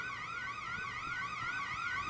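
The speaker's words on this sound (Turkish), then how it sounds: "Alarmı aktifleştirdim." A robbery alarm in the video game One-Armed Robber, set off while robbing a car dealership, wails in a rapid, steady up-and-down siren pattern, quiet and continuous with no talk.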